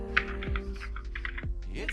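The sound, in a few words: typing on a computer keyboard, Visual Basic code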